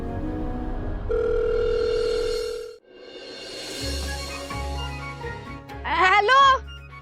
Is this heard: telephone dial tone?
yes